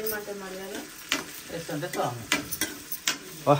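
Curry leaves sizzle and fry in a hot pan while a spoon stirs them, with soft scraping strokes and crackles rising over steady frying noise.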